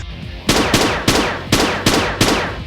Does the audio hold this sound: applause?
no